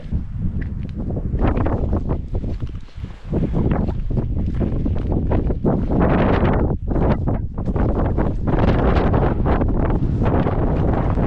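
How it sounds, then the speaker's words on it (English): Cold wind blasts across a mountain top in a snowstorm, loud roaring gusts buffeting the microphone continuously with brief lulls. "Man, this wind is cold."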